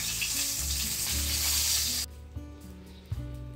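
Fried bhetki fish sautéed in hot oil in a pan, a loud, steady sizzle for two seconds that drops abruptly to a quieter crackle, with a couple of sharp clanks of stirring.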